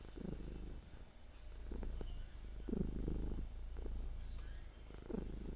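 A house cat purrs softly and close up, a low steady rumble pulsing in slow rhythmic breaths over several cycles.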